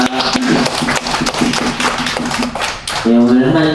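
A church congregation claps at a Friday evening worship service, a burst of quick, dense clapping nearby, with a voice talking and then sustained tones near the end.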